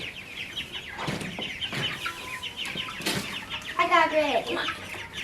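Young chicks being moved from a kitchen brooder cluck and chirp in short bursts close by, while a person speaks briefly over them.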